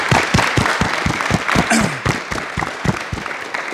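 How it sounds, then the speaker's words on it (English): Applause from a crowd at a cricket league awards event: a steady run of hand claps, fairly close and loud, fading slightly toward the end. "Let's just have a round of applause for that"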